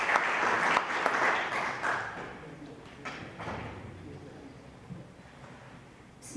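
An audience at a scientific seminar on the needs of Syrian refugee women applauds to welcome a university nursing dean, with dense clapping that gradually thins and fades.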